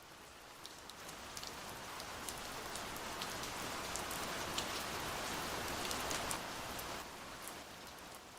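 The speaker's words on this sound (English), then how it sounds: "It was raining heavily" Heavy rain pours down steadily, a dense wash of drops striking surfaces all around, with scattered sharper drip impacts and no voices.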